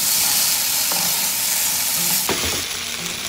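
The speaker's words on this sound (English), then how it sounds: "Mix it well and give it a good stir." Mutton paprikash sizzles steadily in a hot pan, frying loudly throughout, with a few sharp scrapes and clatters of stirring near the end.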